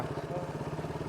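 A motorcycle engine rumbles close by with a steady, pulsing throb, like a bike idling or rolling slowly past.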